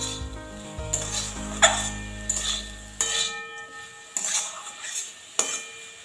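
Beetroot and banana stem curry with ground cumin being stirred in a pan, a low sizzle under repeated scraping and clinking strokes of a spatula against the metal, close and moderately loud.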